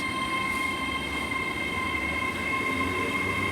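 A Class 800 train unit at Swindon station gives off a steady rumble with a sustained electric whine, continuous and fairly close, with no talk.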